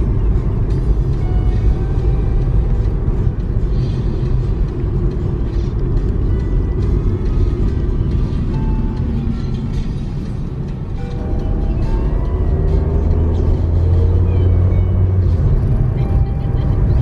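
Road traffic on the Big Island: a close, loud engine rumble with mechanical rattling runs throughout, dipping briefly partway before building again, as cars move slowly in a jam.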